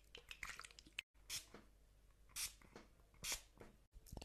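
Water spritzed onto hair from a spray bottle before a haircut, heard as several short hissing bursts, close and fairly quiet, alone without talk.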